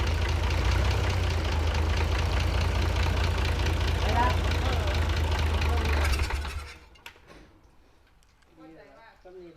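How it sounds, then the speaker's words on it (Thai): A Hino E400 truck engine runs loud and steady with a dense low rumble for about six seconds, then cuts off abruptly, leaving faint voices and background sounds. "เครื่องฮีโน่ e 400มีหลายตัวอยู่นะครับ"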